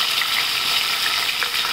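Chopped garlic fries in hot oil for a tempering along with mustard seeds, cumin and curry leaves, giving a steady close-up sizzle peppered with small crackles and pops, loud and unbroken.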